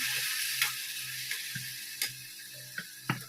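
A steady high sizzle of tomato puree frying in a hot kadhai, with several sharp scraping clicks of a utensil stirring against the metal.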